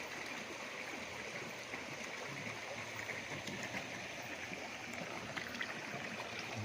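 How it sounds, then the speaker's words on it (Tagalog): A river flowing past a farm lot, heard as a steady, faint, even wash of moving water with no voices and no breaks. "Ang ganda ng ilog."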